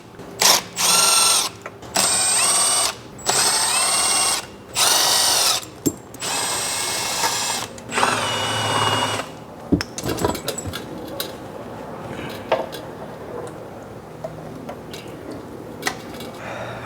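Power tools buzzing off the transmission pan bolts on a 2010 Mercedes E63 AMG coupe, with a series of short, loud, close drill or impact bursts early on, then quieter clinks and handling noises.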